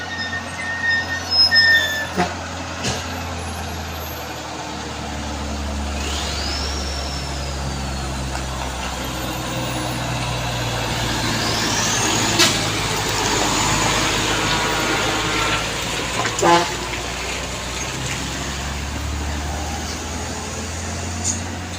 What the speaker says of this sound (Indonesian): Kontainernya langsung digas.